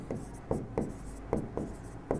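Chalk or marker writing on a classroom board makes quick scratchy strokes, about six short taps and scrapes in an uneven rhythm, close and fairly quiet, with no voice.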